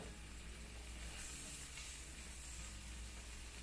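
Vegetables cooking down in olive oil in a pan, a faint, steady sizzle and hiss that holds evenly from start to end with no talking over it.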